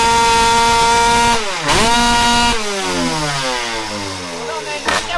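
A twin-cylinder motorcycle engine runs close and loud, holding a steady buzzing idle, blipping the throttle up briefly, then dropping into a lumpier, wavering rev before another short blip.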